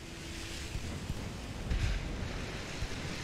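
Ocean waves washing over a battleship in Ultimate Admiral Dreadnoughts, a continuous low surging roar with wind noise and a brief heavier swell partway through.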